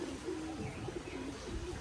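Pigeons coo softly and repeatedly, a low, steady murmur as they come close to be fed at a home, faint and without talk.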